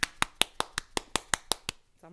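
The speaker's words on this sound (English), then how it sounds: "here we'll kind of hit the blank area against our hand" A plastic ornament blank being smacked against a palm, about ten sharp, evenly spaced claps, close and loud, followed by a brief voice at the end.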